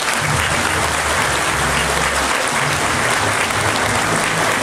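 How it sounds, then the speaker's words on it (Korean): Audience applause fills a hall after a speech by Fox News anchor and former judge Jeanine Pirro, steady dense clapping throughout with no voices over it. "여러분 다시 한번 큰 박수 보내주십시오"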